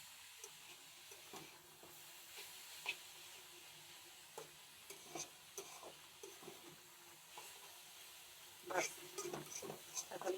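Dried red chillies are tempered in hot oil with radish greens, giving a soft continuous sizzle broken by scattered spatula scrapes and stirring knocks, with some talk in the background.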